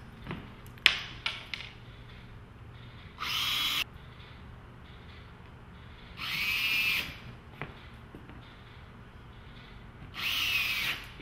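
A power drill drives screws into a golf simulator stance mat in three separate bursts of whining spin, each under a second long, separated by quiet stretches with a few light knocks and clicks, fairly close, no talk.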